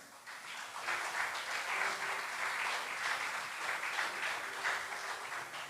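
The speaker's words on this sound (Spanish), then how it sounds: "Dale un fuerte aplauso al Señor" A Spanish-speaking church congregation applauds in praise of the Lord, a sustained, even round of many hands clapping that swells early and continues steadily, moderately loud and unbroken.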